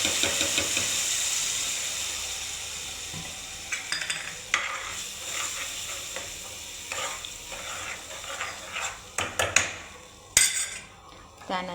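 Gravy for malai kofta, poured over a red chili tempering, hisses and sizzles in a pan while a spoon stirs and scrapes, with intermittent clinks of metal against the pan.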